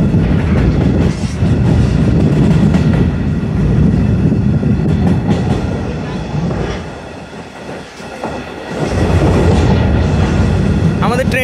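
Rolling at about 35 km/h toward Srinagar station, a stone-carrying freight train rumbles steadily with loud wheel clatter, heard from aboard; the noise dips briefly midway before swelling back to a full roar.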